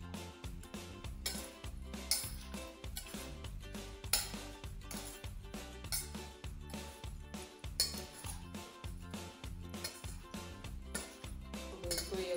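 Radish and green chilli pickle is stirred with salt and turmeric in a bowl, giving quiet, rhythmic scraping and clinking strokes that repeat steadily and close by, with no talk.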